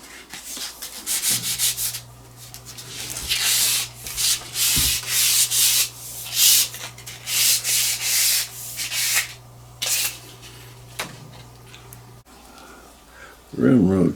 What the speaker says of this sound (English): A little sanding on the ramrod